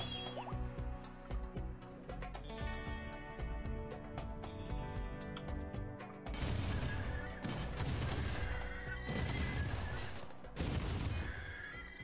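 Weapons in the video game Rimworld fire at attackers on a sea ice base, with repeated sharp bursts of gunfire growing denser and louder in the second half over a steady musical background.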